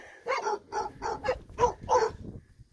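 A short burst of about six quick barks from a dog nearby, sharp and fairly loud with brief gaps between them.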